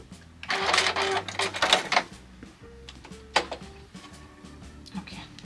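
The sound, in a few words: sewing machine stitching back and forth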